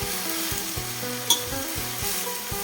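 Morning glory greens stir-fried with garlic in a hot pan, a loud continuous sizzle broken by rhythmic scraping and tossing strokes of a utensil, with one sharp metallic clink midway and no voices.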